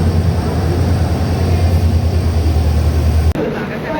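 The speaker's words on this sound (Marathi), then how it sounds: "फायनल ट्रेन आल्या गाईज." A steady deep rumble from a train pulling into a station, loud and close, cutting off near the end to quieter background.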